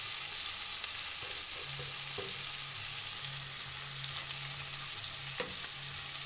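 A pickle mixture sizzles and crackles steadily in a pan with a little turmeric powder added, giving a close, continuous frying hiss with occasional soft stirring clicks.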